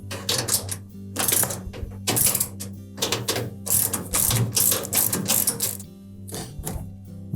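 A ratchet tightens the bottom bolt on the rear shock of a Samsung washer, a close series of quick metallic clicking bursts separated by short pauses.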